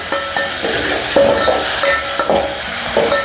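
Spices are sautéed in a pot for spicy urad dal, loud and close: a bright sizzle punctuated by quick, rhythmic knocks and scrapes of a stirring spoon, with no talking.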